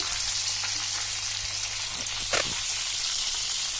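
Okra pieces sizzle in hot frying oil as a steady, close hiss, with a low hum underneath and a brief clatter partway through.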